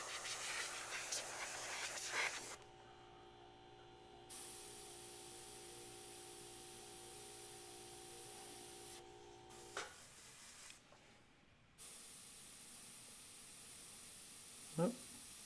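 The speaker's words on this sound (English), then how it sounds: "Okay, let's see if that helps spray a little bit smoother." Paint spray gun spraying in a quiet workshop, a steady soft hiss with several starts and stops across the span, a low hum underneath, no talking.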